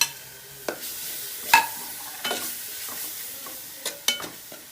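Ginger-garlic paste added to sautéed onions in a pan for a black chicken curry, with a faint sizzle beneath several distinct spoon taps and scrapes spaced irregularly, close and moderately loud, no voices.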